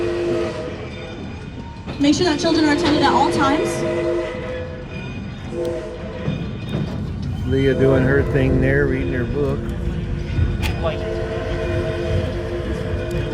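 A scenic steam train on the Oregon coast rolls along with a steady rumble and squealing wheels while an announcer speaks over a loudspeaker.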